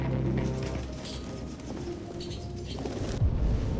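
Pigeons coo softly in Detroit: Become Human, a low murmuring flutter close by that repeats through the short stretch over a faint ambient hiss.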